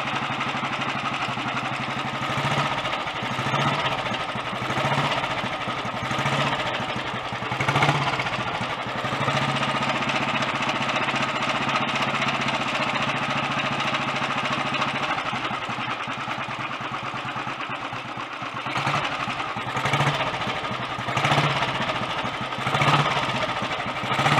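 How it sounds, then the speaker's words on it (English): A Royal Enfield 350 Bullet, an early Redditch-built single, idles steadily at close range with a regular low thump, with its mag dyno drive adding a busy mechanical clatter throughout. "The mag dyno drive is making quite a bit of noise, but it's not so tappety sounding now."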